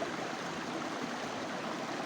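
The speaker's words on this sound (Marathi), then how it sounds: "तर आमची नदी बघू शकता पाठीमागे" River flowing steadily behind a fishing spot in the Konkan countryside, a soft continuous rushing wash of water, faint and even, with no voices.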